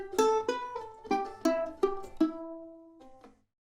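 A single sampled mandolin from the Impact Soundworks Rosette Mandolin library plays a short plucked phrase, about seven crisp notes with ringing sustain, then a soft trailing pair of notes that fades out.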